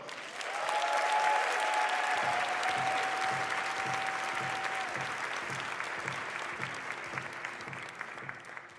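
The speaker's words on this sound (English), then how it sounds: "Let's give a resounding round of applause for my sister, the 47th Mayor of St. Louis, Mayor Tashara" Crowd applause at a mayoral inauguration ceremony, a loud sustained wash of many clapping hands from a large audience with a faint whistle early on, holding steady for several seconds without speech.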